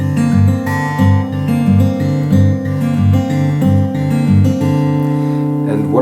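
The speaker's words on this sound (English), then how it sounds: "We are using Travis picking for this song," Steady acoustic guitar fingerpicking in a Travis pattern for a song, with an alternating thumb bass under melodic treble notes, played close, clear and continuous without talk.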